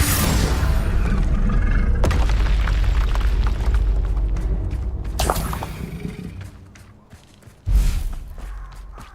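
Spell explosions from Bombarda and Confringo in Hogwarts Legacy, heavy booming blasts filling the opening seconds, a fresh burst near five seconds, then a sharp thump near the end over low rumble.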